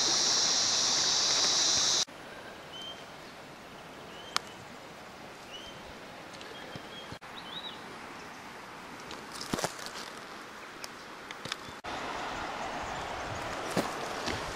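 Continuous rushing of creek water flowing over rocks in Sundown National Park, a steady broad babble close by with shifting intensity across the recording.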